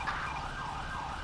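An ambulance siren from the GTA 5 video game wails steadily during a firefighter rescue mod scene, a loud, continuous rising and falling tone over low engine rumble.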